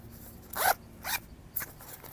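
Zip on an Adidas bag pulled open in three short bursts, the first longest, close and crisp in a quiet room.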